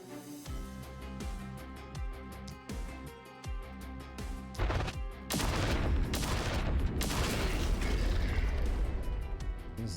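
Game gunfire and impacts in The Last Spell build from scattered sharp shots over a rhythmic musical backdrop into a dense, loud barrage of crashing bursts and explosions.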